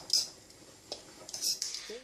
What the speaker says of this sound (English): So you put that in and you give it a really good mix together.